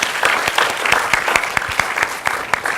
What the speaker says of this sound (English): So just a quick round of applause for Dean Schwartz